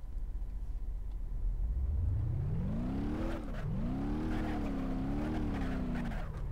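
A low rider hatchback engine with its exhaust removed in BeamNG Drive revs up from a low rumble into a steady droning whine that dips and rises, loud and constant throughout.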